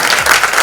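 Audience applause for the star cast at a movie trailer launch event, a dense burst of loud, close clapping filling the short moment.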